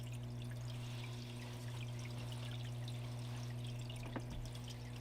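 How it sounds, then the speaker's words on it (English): Water pours in a smooth, steady stream off a gold prospecting sluice, a continuous wash with a constant low hum beneath it and no pauses. "Nice smooth flow coming off the sluice."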